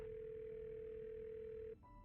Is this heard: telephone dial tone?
yes